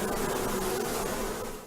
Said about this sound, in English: Therapists claim they use energy created by bees flapping their wings.